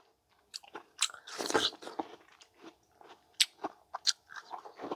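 Someone eats watermelon on a watermelon-only diet, biting with a few wet crunches and then chewing in short, uneven bursts close to the mic, with no talk.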